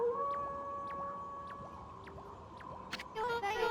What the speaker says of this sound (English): That was Kimu's howl.